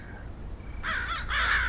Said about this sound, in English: With a quick lift of her hand, Wendy sent the bird flapping into the air